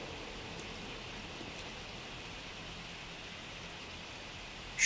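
Steady, soft rain falls in the survival video game 7 Days to Die, an even hiss with no voices over it.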